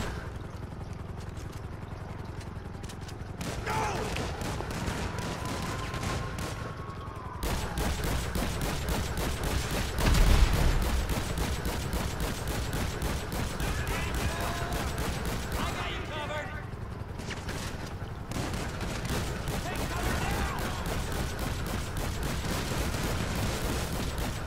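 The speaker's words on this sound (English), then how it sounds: "I'm using the slug shotgun. The shotgun that shoots a big fucking slug." Slug shotgun blasts ring out in a GTA 5 Online shootout with city cops outside a store, repeated heavy booms amid a dense, continuous barrage of other gunfire and game sounds, loud throughout.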